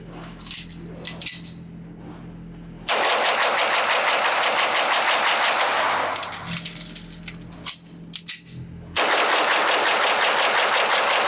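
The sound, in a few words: Beretta 92FS Inox pistol being fired rapidly at a range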